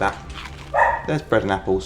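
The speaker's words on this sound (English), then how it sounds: "Sorry about the dog." A dog barks in the stealth video game Dishonored 2, with a couple of close, sharp woofs mixed in with in-game character speech.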